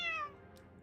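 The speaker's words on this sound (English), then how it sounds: "Oh, there's a kitty cat." A pet cat gives a single short, close meow that fades quickly, with a faint room background behind it.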